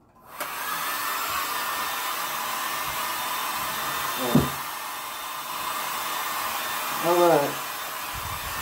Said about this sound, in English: a hairdryer is about the best thing.